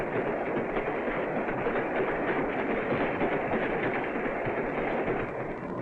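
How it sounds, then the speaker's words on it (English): A 1940 passenger train rushes over big steel rails, giving a loud, continuous rumbling roar with a steady churning texture, close and unbroken. "The big steel rails sag under the weight of the rushing train."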